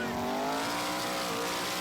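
A 1000HP twin-turbo Ford F-150 street racing at night, its engine climbing in pitch through a hard pull with tire squeal, loud and close, with a faint voice underneath.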